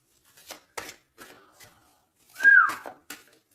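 A person whistles a short, wavering pitched note between scattered soft clicks and rustles, fairly close and alone with no talk.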